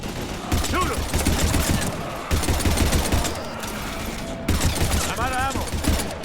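Dense, loud automatic gunfire in the sci-fi shooter Mass Effect 3, sustained rattling bursts with brief gaps, mixed with combat noise and voices.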